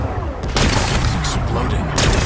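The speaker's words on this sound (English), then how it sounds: "Gotta blast away some rocks, so I can expose the power cell." Rocks blasted apart in Horizon Forbidden West, a loud, close burst of booming explosions and crumbling debris, heavy and sustained through the short moment.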